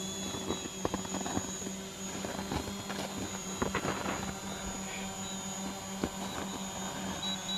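A DJI Mavic Pro drone fitted with tall landing gear descends to land in snow on a winter forest walk, its steady propeller whine droning throughout with a few faint knocks and rustles nearby.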